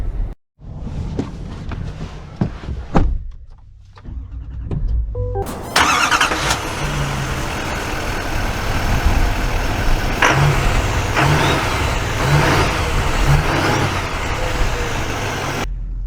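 A 2024 Chevy Silverado 3500 LT with the Duramax diesel engine starts up after a few clicks and thumps, then settles into a steady, loud engine drone as the heavy-duty pickup drives off, with shifting tones along the way.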